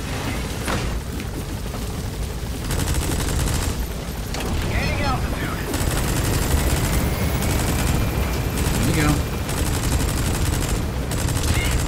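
Rapid Gatling gun fire from the video game Metal Gear Solid V, sustained loud bursts with booms and explosions layered over a continuous game soundscape.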